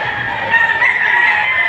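A Boston-bloodline gamecock crows loudly and close at a rooster sale in Padre Garcia, Batangas: one sustained, strained crow held for over a second over a steady background murmur, with no clear speech.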